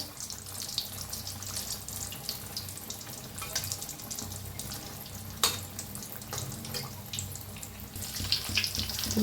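Vada frying in hot oil over a medium gas flame, a steady close crackling sizzle with occasional sharper pops and a clack as the pieces are turned to fry both sides, no voices.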